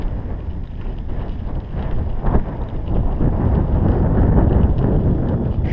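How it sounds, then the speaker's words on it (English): Wind gusts steadily across an open, unprotected lakeside campground site, a loud rushing roar buffeting the microphone and building toward the end with no voices. "I'm sure you can hear the wind."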